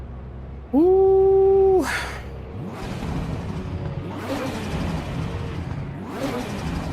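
A car engine in the Foxhole video game cranks with a rising tonal whine, then several loud whooshing revs surge and fade in succession; one person gives a brief exclamation.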